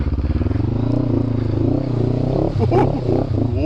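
A motorcycle engine runs steadily while being ridden on a long road trip, its close, even drone holding for the whole stretch without pause.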